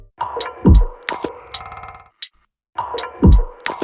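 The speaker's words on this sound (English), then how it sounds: "this artifact thing is from the Memento pack" A looping textured artifact sample from the Memento pack plays within a beat, with buzzing, glitchy tonal layers, a deep booming thump, and a brief cutout before the pattern repeats, loud and close.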